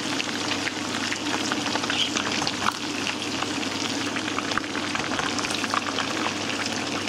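Homemade meatballs fry in a pan, giving a steady, dense sizzle and crackle with small pops, close and unbroken for the whole stretch.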